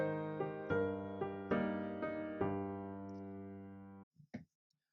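A piano plays a short passage from a song, with clear struck chords and notes sounding one after another in an even rhythm, each left to ring before the next. A couple of faint knocks follow as the playing stops.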